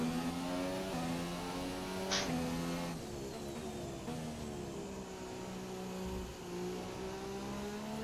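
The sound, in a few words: McLaren Honda F1 car engine in F1 2017 video game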